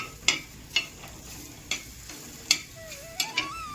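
Food sizzles softly in oil while a spoon scrapes and stirs the pan in short, regular strokes, as gram flour is fried in oil.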